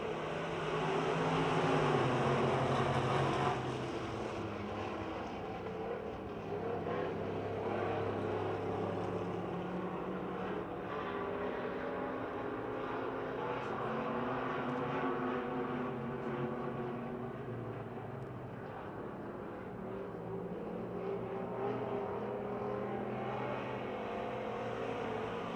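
Race cars lap Pennsylvania Motor Speedway near Pittsburgh with a steady, dense engine roar that swells slightly at the start, then holds a continuous droning hum at a distance.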